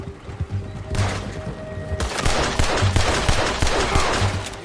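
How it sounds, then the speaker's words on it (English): Rapid bursts of gunfire from Red Dead Redemption 2, a volley of loud, close shots that thickens into dense overlapping fire over the last few seconds. "Shoot that bastard already."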